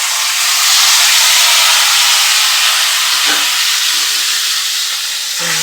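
Chopped tomatoes, half a kilo, hit hot oil in a pan, giving a loud, steady broadband sizzle and hiss that lasts the whole stretch, with a couple of faint clinks near the end.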